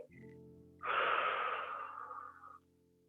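A long, forceful breath out through the mouth during a stretching exercise, rising suddenly after a brief quiet inhale and fading over about two seconds, close and alone.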